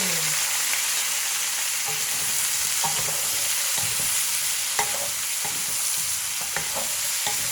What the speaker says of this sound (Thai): คลุกเคล้าให้เข้ากันเลยนะคะ